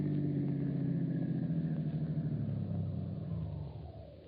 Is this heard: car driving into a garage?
yes